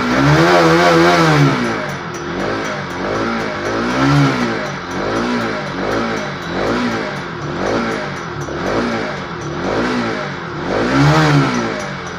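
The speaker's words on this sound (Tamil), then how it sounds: "இப்போ நம்ம வண்டியை கொஞ்சம் ரைஸ் பண்ணி பார்க்கலாம்." A motorcycle engine is revved repeatedly while its radiator is bled of an air lock, rising and falling in steady waves of revving about every second, loud and close with no talk.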